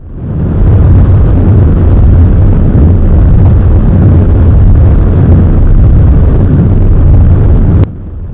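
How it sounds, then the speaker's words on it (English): An Atlas missile explodes at launch in one huge, continuous roar that stays loud and dense for several seconds before suddenly dropping off. "something went wrong, and the entire Atlas blew up"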